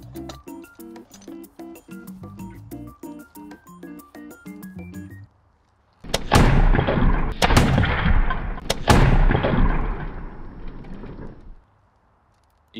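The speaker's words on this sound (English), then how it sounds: "So this is gonna be a compressed gas inside this chamber here, otherwise known as a bazooka." A compressed gas bazooka fires a teacake, giving a loud blast followed by several seconds of rushing roar with a few sharp cracks. Musical notes play just before the launch.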